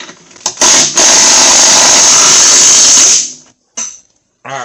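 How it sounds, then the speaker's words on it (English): Power tool tightening the top strut bolt on a 2001 Chrysler Sebring during a front strut replacement, one loud sustained whirring burst of about two seconds, then a few short clicks and bumps. "I just tightened that last remaining bolt on the top."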